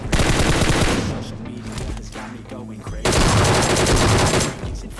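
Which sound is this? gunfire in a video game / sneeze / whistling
gunfire in a video game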